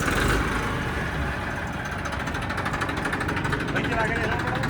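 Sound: tractor engine running

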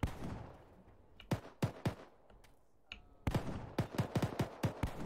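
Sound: gunshot fired at a wall in video game ARMA 3

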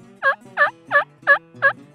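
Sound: wild turkey gobbler gobbling

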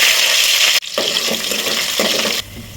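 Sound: onions and green chillies frying in hot oil

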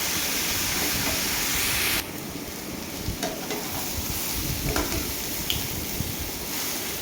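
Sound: stirring broken egg with vegetables in a frying wok

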